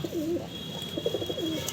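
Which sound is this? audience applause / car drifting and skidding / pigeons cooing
pigeons cooing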